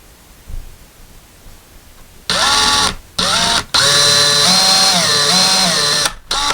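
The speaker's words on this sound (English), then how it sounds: "we're just going to pre-drill this just a little bit" A power drill pre-drills into a wooden wall to hold a coat hook. It whines in several close, loud bursts, and the longest runs for a couple of seconds between short pauses.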